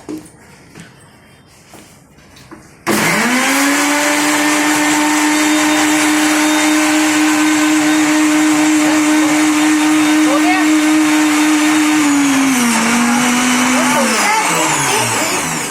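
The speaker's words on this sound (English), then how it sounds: "After some time, blend it with blender." A blender making lassi with ice cubes starts suddenly after a few quiet seconds and runs loud and steady, its motor pitch dipping slightly near the end as it winds down.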